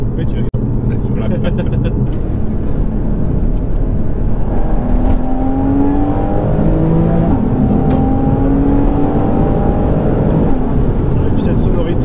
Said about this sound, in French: Et puis cette sonorité, le flat 6, on s'en lasse pas.